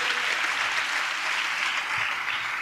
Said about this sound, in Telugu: చప్పట్లు కొడుతూ దేవునికి స్తోత్రాలు చెప్దాం.